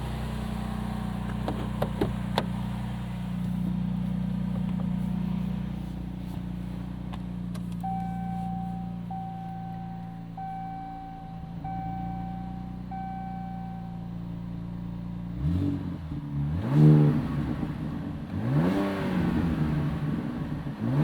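A warmed-up 2025 Ram 1500 RHO's twin-turbo inline-six idles and gets a couple of revs, its steady engine drone rising in short surges near the end, heard up close with a brief chime sequence in the middle.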